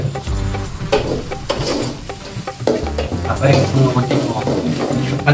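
Ginger garlic paste and green chillies being sautéed and stirred in a pan, a steady sizzle with scraping stirs throughout, mixed with background music and some voice.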